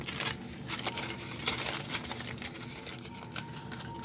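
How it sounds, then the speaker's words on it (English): Material crumpled by hand for a mixed media artwork gives close, crackling crinkles in irregular bursts over a continuous papery rustle. "So I am gonna kind of crumple it up here."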